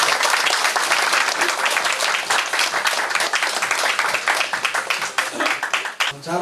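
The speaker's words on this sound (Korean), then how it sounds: "큰 박수 부탁드리겠습니다." An audience at a one-day business seminar breaks into loud applause as a lecturer is introduced, a dense clatter of many clapping hands that thins into separate claps near the end, with a voice speaking briefly at the close.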